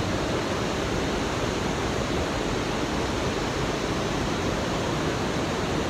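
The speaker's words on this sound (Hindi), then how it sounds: "नदी की आवाज़, ये अलग अलग टाइप का म्यूज़िक जो है आपको सुनाई देता रहेगा" Steady broadband rush of a river flowing beside a mountain trekking trail to Kalpeshwar and Rudranath, continuous and loud with no break, filling the whole scene like a nearby torrent or waterfall.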